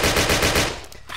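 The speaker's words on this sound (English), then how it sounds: "just the sound of this gun is pretty nice" Rapid automatic fire from a Type 99 gun in the blocky shooter game Ace of Spades, modded, a steady fast burst of loud shots that fades out near the end, with no talk.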